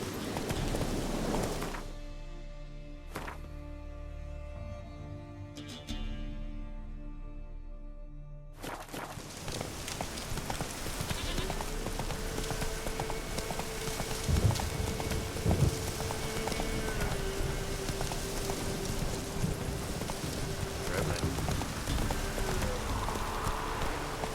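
Horse hooves clip-clopping steadily in The Witcher 3 while a rider travels on horseback, the rhythmic footfalls carrying on under a wash of rain and ambient game sound with no talk.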